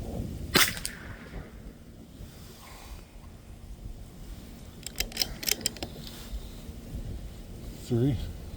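A Bergara B14R .22 LR rifle firing Norma Tac22 ammunition outdoors: one sharp, brief crack early on, followed by windy open-air background, a few light clicks and a low voice talking.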